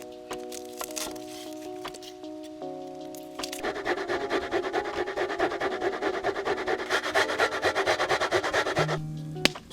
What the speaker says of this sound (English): For 800 grams of meat, I grate 4 medium onions